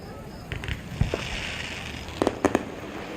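Distant 4th of July fireworks crackle and pop across a night sky, scattered single bangs followed by a tight cluster of sharp reports, set against a steady hiss of outdoor ambience.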